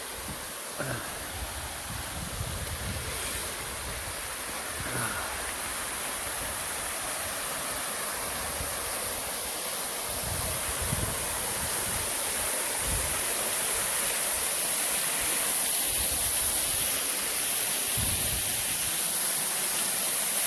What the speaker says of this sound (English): Here I am under a waterfall.